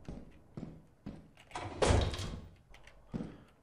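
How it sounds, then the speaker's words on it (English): A heavy door in the video game Lethal Company bangs open with a loud thunk and rattle, standing out amid quieter intermittent knocks and footsteps. "Why does he open the door so..."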